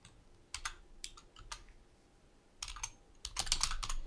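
Keystrokes on a computer keyboard while editing text in Blender, coming in short clustered bursts of clicks with pauses between, then a denser run of rapid typing at the end, close and moderately quiet.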